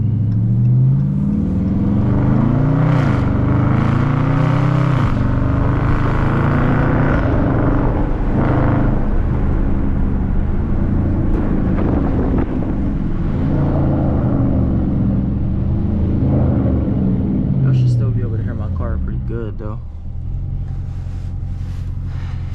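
A 2019 Dodge Charger RT with a 5.7 liter V8 and straight pipe exhaust rumbles loud and close, revving up and down repeatedly through city driving.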